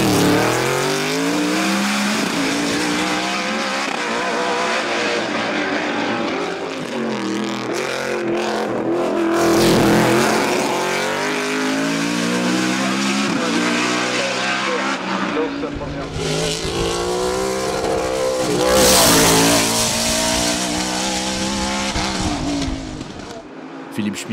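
A BMW M3 E92 race car at the Limonest–Mont Verdun hillclimb roars close by over a long run, its engine revving up and down through gear changes with a brief tire squeal, while a commentator speaks over it.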